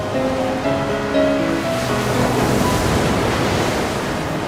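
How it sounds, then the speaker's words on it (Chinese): Ocean waves washing and splashing in steady broadband surf, loud and continuous, with faint tonal background sound fading early on and wind noise on the microphone. "好多好多个浪花"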